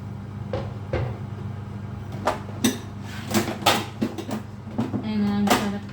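Kitchen drawer opening and metal utensils being picked out for making lasagna, a series of sharp clinks and knocks scattered over several seconds, close and fairly loud against a steady low hum.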